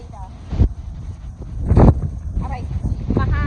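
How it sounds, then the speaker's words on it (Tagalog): Strong gusts buffet the microphone outdoors at a riverside fishing spot in Lockport, Manitoba, with low rumbling bursts that swell and fade; people talk in between. "Aray, mahangin talaga."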